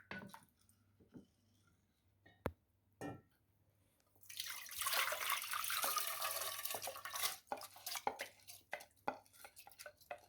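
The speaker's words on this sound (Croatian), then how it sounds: "Sada ćemo rižu preliti ponovo sa pola litra vode i stavit ćemo ju da se kuha nekih 20 minuta." Half a litre of water is poured over rice in a pot, a bright splashing gush lasting a few seconds in a quiet kitchen, framed by soft clinks and taps of utensils before and after.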